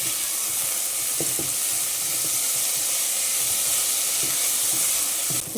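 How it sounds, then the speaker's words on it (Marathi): Rice gently stirred and sautéed in a hot pan for coconut rice, a loud continuous sizzle with soft scraping stirs popping through now and then, close and alone. "म्हणून एकदम हलक्या हाताने हा तांदूळ आपल्याला परतायचा"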